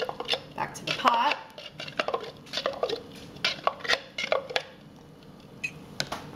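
Pureed bean mix scraped and poured back into a pot of rainbow chard and turkey meatball soup, with close clinks of a utensil against the pot and scattered knocks; a voice speaks over parts of it.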